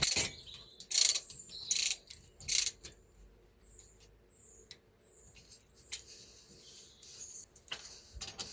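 A ratchet with a 21mm socket works loose a suspension bolt on a Mini Countryman's rear suspension, giving several loud close clicking bursts early on, then quieter scattered ticks and clicks.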